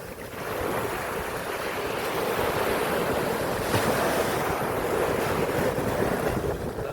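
High tide waves at Caba Beach, La Union, Philippines, a continuous loud wash of surf with steady wind buffeting the microphone, no voices.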